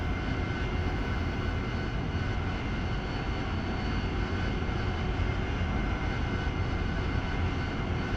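Steady, loud jet engine drone from an aircraft taxiing in the DCS World flight simulator, a continuous broadband roar holding constant throughout with no talk.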